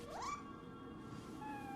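A cat gives a single rising meow near the start, clear and fairly close, followed by a faint tonal trail over quiet background sound.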